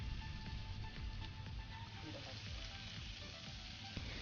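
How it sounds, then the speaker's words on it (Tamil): Marinated chicken frying in melted butter, a steady, faint sizzle and crackle from the pan that runs without a break and with no voices. "பட்டர் நல்லா உருகுனதும் அதில் நம்ம மேரினேட் பண்ணி வச்சுருக்க சிக்கனை ஆட் பண்ணிக்கலாம்."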